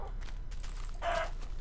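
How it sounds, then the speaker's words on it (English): A chicken in Minecraft gives a few short clucks, ending with one clearer squawk, close by against a quiet low background. "That chicken is desperately trying to come in and ruin my farm."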